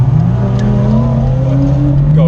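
A Mercedes-Benz 600SL V12 with an aftermarket exhaust revs loudly and continuously, its deep engine note rising steadily in pitch across the whole stretch as it accelerates.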